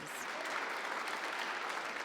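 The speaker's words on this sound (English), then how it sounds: "The Senate's 2026 session started with applause." Applause from a standing ovation in a state Senate chamber at the opening of the 2026 session, a steady, dense wash of many hands clapping, fairly faint and distant throughout.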